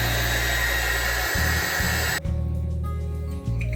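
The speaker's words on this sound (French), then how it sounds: "on va utiliser ici un décapeur ou un sèche-cheveux pour accélérer le temps" A hair dryer blows on wet acrylic paint to speed drying, giving a loud, steady whirring roar that is briefly interrupted a few times as it is handled, with no talking.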